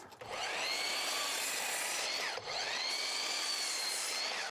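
A power saw cuts steadily through a wooden board being cut into pieces for pumpkin decorations, a continuous whining buzz with one brief dip partway through; no speech.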